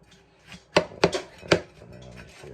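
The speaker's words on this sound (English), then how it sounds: "Zucchini. Wanting this diced, right?" A knife dices zucchini on a cutting board for lasagna, with three sharp, distinct chops close by and a few softer taps between them in a quiet room.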